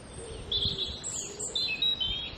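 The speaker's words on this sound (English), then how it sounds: "And that's the song of the robin." A European robin sings a liquid, warbling song in a dawn chorus in Cumbria, with short high phrases separated by clear gaps, moderately distant and alone.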